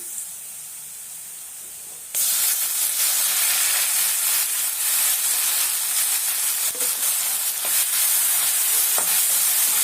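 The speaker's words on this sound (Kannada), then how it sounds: "ಈಗ ಒಂದು ದೊಡ್ಡ ಸೈಜಿನ ಟೊಮೊಟೊ ಸಣ್ಣ ಕಟ್ ಮಾಡಿ ಇಟ್ಕೊಂಡಿದ್ದೀನಿ ಅದನ್ನು ಸೇರಿಸ್ತಾ ಇದ್ದೀನಿ" Chopped large tomato hits a pan of frying onions: a quiet start gives way to a sudden loud sizzle, then steady hissing and spitting with occasional stirring scrapes.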